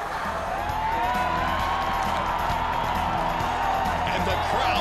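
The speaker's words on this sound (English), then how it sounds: "And the crowd goes wild." A school crowd cheers, whoops and claps in a steady, dense roar lasting several seconds, with voices talking beneath it.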